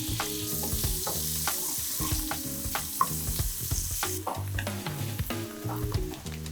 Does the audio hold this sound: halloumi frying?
yes